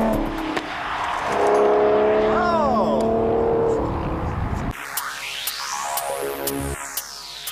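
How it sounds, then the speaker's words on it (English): Aston Martin Vanquish during evasive lane-change driving on the Autobahn: steady engine and road roar with a rising tonal whine, then a different drone with a sweeping pitch, under a narrator's voice. "Evasive driving on the Autobahn."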